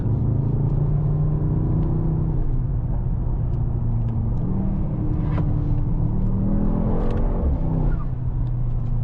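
A 2024 Mercedes-AMG GT 63 S four-door coupe with its 843 hp biturbo V8 pulls along steadily, the deep engine drone holding close and constant with a few small shifts in pitch.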